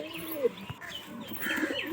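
Domestic fancy pigeons coo in short, soft rolling calls close by, over light background noise.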